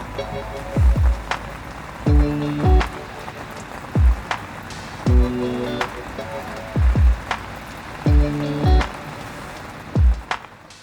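Rain falls on a bivvy at a carp day-ticket fishery: heavy drops strike the shelter fabric in loud, close, irregular thumps, often in pairs, over a continuous patter.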